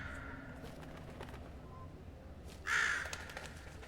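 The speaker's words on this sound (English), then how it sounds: "An actual bird in there?" In the puzzle game The Room 3, a bird gives a single short harsh caw-like call midway through, sudden and fairly loud over a steady low ambient game background.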